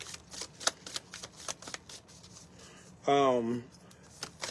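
Tarot cards are drawn from a deck and shuffled, giving a series of close, quick papery flicks and taps, with a brief spoken voice partway through.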